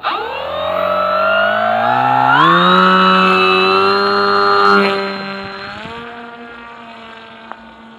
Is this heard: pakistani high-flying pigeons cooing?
no